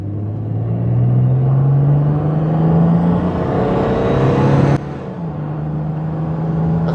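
A 1965 Jaguar S-Type engine revs hard toward 4,500 rpm on the road, a loud, steady rising drone with a sharp shift partway through. It carries on strongly with no voices over it.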